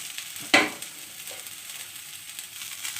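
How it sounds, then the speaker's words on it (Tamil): Shallots and garlic sauté in a pan with a soft, steady sizzle, broken early by one sharp clatter of stirring against the pan, heard close with no talking. "சின்ன வெங்காயம் போட்டாச்சு பூண்டும் போட்டாச்சு அப்படியே வதங்கட்டேன்"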